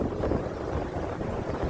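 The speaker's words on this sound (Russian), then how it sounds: "Просто очень сильный ветер." Strong wind buffeting a microphone high up on a swaying tower, a continuous rough roaring rumble with gusty surges, close and loud, with no talk.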